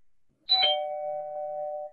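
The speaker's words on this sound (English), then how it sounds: "you will get a ding dong" A doorbell ding-dong sound effect, a bright struck chime followed by a lower sustained tone that rings out clearly and alone for over a second.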